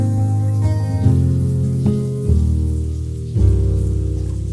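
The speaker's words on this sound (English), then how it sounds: "We got a shower, rain shower in the background with the pad" A synthesized rain-shower sound layer from a synth library patters beneath sustained pad chords that change every second or so; the rain hiss stays steady and fairly loud, with no talking.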